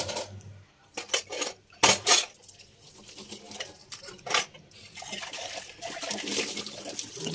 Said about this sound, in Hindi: अब मैं इसको साफ पानी से धो लेती हूँ।